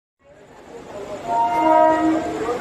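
A train pulls into a station, its horn sounding a sustained, swelling tone over a low rumble that grows louder and holds near the end.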